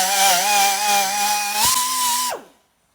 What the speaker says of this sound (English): all I'm using is this plastic brush on a die grinder